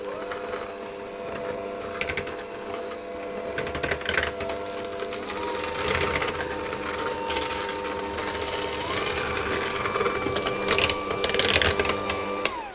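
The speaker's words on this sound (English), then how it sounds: "So I'll put my butter into the bowl, and then the sugar as well, and I'm going to mix those together." Butter and sugar being mixed in a bowl for cowboy cookies with an electric mixer, a steady loud motor whine with a shifting pitch and scattered clicks and scrapes, no talk.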